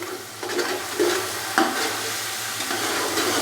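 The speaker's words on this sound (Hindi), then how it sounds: "मसाले को थोड़ा सा और भूनेंगे 1 से 2 मिनट के लिए" Masala with tamarind pulp being fried and stirred in a pot, a low steady sizzle with a few scraping strokes of the spoon, close and moderately quiet.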